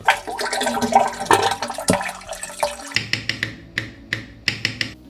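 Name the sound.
pouring milk and condensed milk for ice cream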